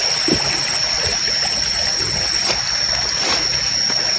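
A small river stream trickling and splashing along a path into a forest, a constant close wash of running water with a faint steady whine above it, no voices.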